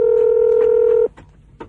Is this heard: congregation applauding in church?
no